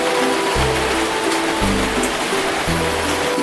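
Steady broadband hiss of rain falling outdoors over an open-air seating area, continuous and fairly loud, with low rumbling bursts underneath and no talk.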